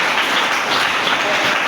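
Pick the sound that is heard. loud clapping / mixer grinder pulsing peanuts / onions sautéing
loud clapping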